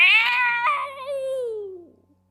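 A human voice imitates the loud, high, cat-like whine of a new single-seat motorcycle, a drawn-out wavering cry that slides downward and fades out over about two seconds.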